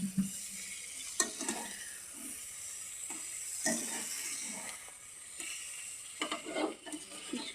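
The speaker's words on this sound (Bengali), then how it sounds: "ভালো করে নেড়ে দিতে হবে।" A curry is stirred in a pan just after the lid comes off. A soft, close sizzle and hiss carry on while a spoon scrapes and pushes the contents around at an uneven pace.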